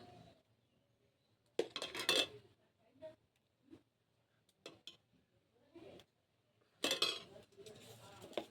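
Mango pulp, seasoned with spices and sugar, is spread onto oiled metal plates in a home kitchen, giving two loud bursts of scraping and metallic clinks, with smaller taps and clatter in between.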